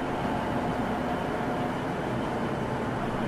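Steady rushing rumble of an empty roller coaster train from Arrow Dynamics on its first test run, heard as an even, continuous roar without clear breaks.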